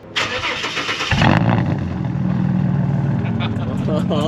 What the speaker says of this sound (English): All right, so I'm very excited to start this car, excited to hear it.